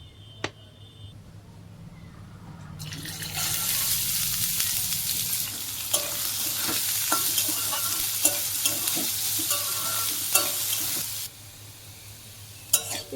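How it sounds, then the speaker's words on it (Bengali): Beans and carrots fry in oil in a wok. A quiet stretch gives way to a loud, dense sizzle lasting several seconds, broken by spatula clicks and scrapes. The sizzle then drops off sharply near the end. "বিন গাজরগুলো ভাজা করে নেব।"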